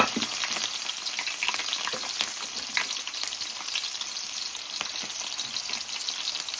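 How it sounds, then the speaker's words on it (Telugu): Onion paste fries in hot oil for a fish curry, a steady close-up sizzle with scattered crackles and light stirring scrapes, no talking over it. "మంచిగా బ్రౌన్ కలర్ వచ్చే వరకు ఫ్రై చేసేసుకోవాలి ఆయిల్లో"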